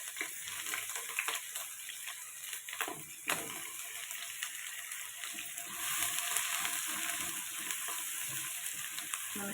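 Sliced ginger and garlic fry in hot oil in a pan for dhaba-style palak paneer, a steady close sizzle with occasional stirring scrapes and no talking.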